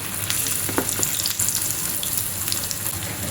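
A fresh fenugreek puri deep-frying in hot oil gives a dense, continuous sizzle and crackle, close and steady throughout without speech.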